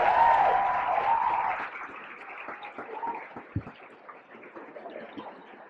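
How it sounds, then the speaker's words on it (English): Audience applause at a conference in a hotel hall, a burst of clapping from a crowd that starts loud and thins out into scattered claps over several seconds. "I'd also like to give a quick round of applause to our servers"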